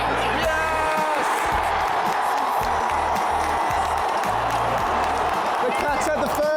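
Grand final crowd and cheer squad roaring after a goal at an AFL match between Geelong and Brisbane, a loud dense wall of cheering under a close voice talking.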